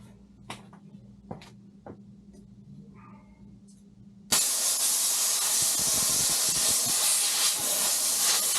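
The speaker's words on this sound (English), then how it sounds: "I'm gonna spray this out again." A few faint clicks and taps, then a loud, steady aerosol hiss sprays continuously up close into a 1985 VT1100C motorcycle fork until the end.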